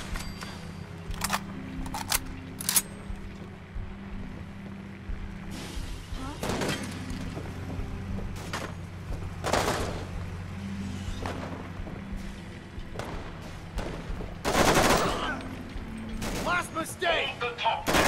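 Fallout 4 gunfire aboard a cargo hold: scattered sharp shots and bursts ring out at intervals over a low background hum, with a voice talking now and then.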